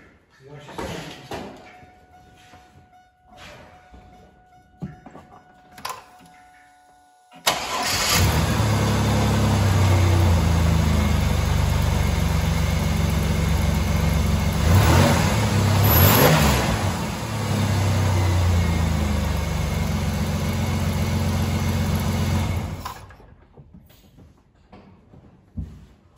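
A 2000 Chevrolet Camaro with new plugs and wires installed cranks and fires up, then holds a loud, steady idle for about fifteen seconds before shutting off, with someone speaking briefly before the start.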